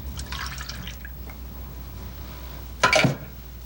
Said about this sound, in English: And you pour the milk into the glass.